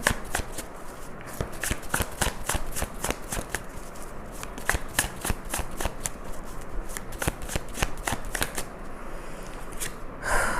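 Tarot cards are shuffled close by in rapid repeated riffles, crisp snapping flicks that run almost without pause for about ten seconds.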